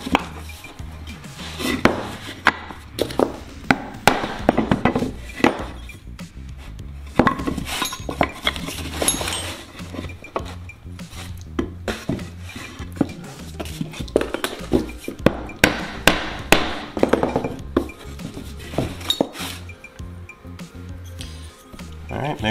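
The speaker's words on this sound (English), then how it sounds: "I'll use a hammer and a piece of wood so that I don't do any damage" A hammer strikes a wooden block to drive a bearing into an aircraft aileron bellcrank during a Sonex kit build, giving a long run of sharp, irregular knocks and taps at close range with talk between them.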